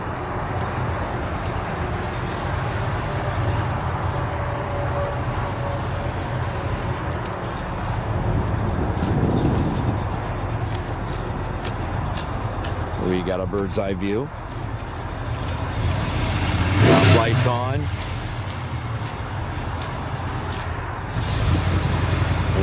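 A drag race car, a 2.56-geared car with a stock torque converter on 225/70/15 Cooper tyres, runs down the strip with a steady engine roar under a commentator's voice, swelling louder as it passes.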